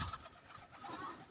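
Soft, low pigeon coos close by, a couple of murmuring calls in a quiet setting.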